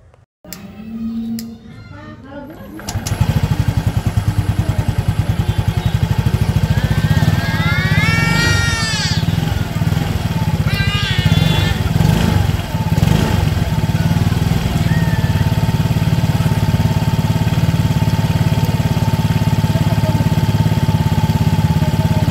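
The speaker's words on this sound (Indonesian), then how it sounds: "Selanjutnya kita panasin ya mesinnya." A Yamaha Mio Gear 125 scooter engine starts up after a few seconds and settles into a steady, close idle while warming up, with brief faint voices and clatter at the start.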